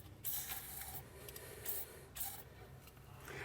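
Penetrating oil spraying onto corroded threads of a bump stop during front suspension setup on a 2015 Toyota: three short bursts of hiss spaced about half a second to a second apart, close and moderately loud.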